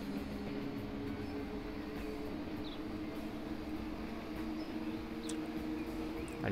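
A train rolls past in the rail-building game Transport Fever, heard as a faint, steady low rumble with soft mechanical hum that stays even throughout, quiet and distant.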